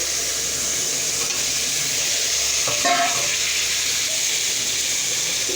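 Pre-fried potatoes go into a pan of spiced oil with softened tomato and salt, giving a steady, close hiss of sizzling throughout with a brief scraping stir near the middle.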